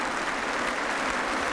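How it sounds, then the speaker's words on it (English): A studio audience claps for a trained pet act, a dense, steady burst of applause that fills the whole short moment. "Some well-deserved applause for Nibbles and trainer Chip Hargrove"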